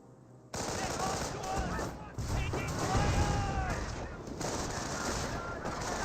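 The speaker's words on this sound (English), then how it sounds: "The Rifleman Squad received some sniper shots there" Sniper shots in Company of Heroes, a World War II strategy game, striking a Rifleman squad; rapid gunfire and crackling battle noise run throughout under a commentator talking.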